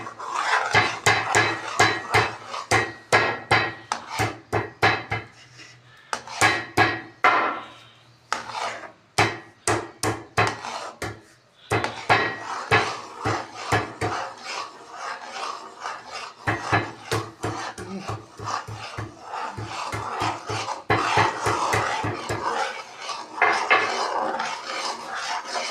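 A spoon scrapes and knocks against a pot as thick chana dal halwa is stirred continuously, giving a long run of close, rhythmic clacks and rasps with short pauses.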